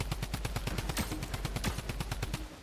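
Rapid bursts of automatic gunfire in the Fortnite video game, a fast even rhythm of sharp close shots filling the whole stretch, with no talk over it.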